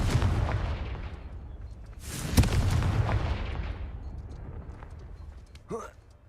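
A Confringo fire spell in Hogwarts Legacy goes off with a heavy rumbling blast that fades, then a second sharp boom with a long decaying tail, loud and close, followed by a brief voice near the end.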